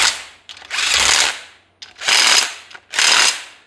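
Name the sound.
ratchet wrench running down engine bolts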